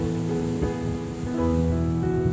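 Sea waves at Jomtien Beach produce a steady, broad wash of surf noise with soft swells rising and falling, heard alone with no voices.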